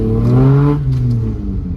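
A loud, close 4x4 engine revs up with a deep throaty exhaust roar, the pitch rising then easing off as it settles back.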